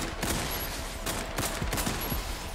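Gunfire in the shooter video game Warface rings out as dense, repeated rapid shots in a continuous fusillade, loud and steady throughout with no talk.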